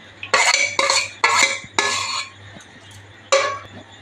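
Semolina, potato and onion being mixed by hand or spoon in a bowl for a semolina snack, five distinct scraping, clattering strokes in quick succession with a brief pause before the last, close and alone.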